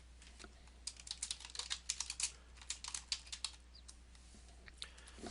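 Typing on a computer keyboard, a quiet close run of quick uneven clacks in bursts, busiest early and thinning toward the end, with no voices.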